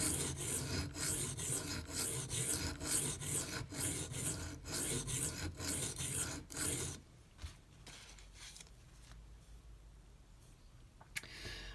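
A Microtech UTX-70 knife is drawn over a Venev pocket diamond stone of 400 and 800 grit in a steady series of rasping strokes, close and fairly loud for about seven seconds, then falling to quiet handling with a couple of faint scrapes.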